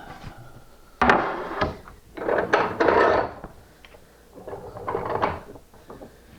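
A sharpened hand cabinet scraper, its edge burnished to a 30-degree hook, cuts across wood in several separate strokes, each a loud rasping scrape lifting large shavings, with brief pauses between strokes and no talking.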